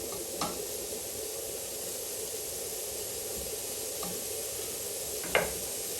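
Bacon frying in a pan alongside chorizo, prawns and garlic gives a steady, fairly quiet sizzle throughout, broken by a few brief scrapes or stirs of the pan, with no talking.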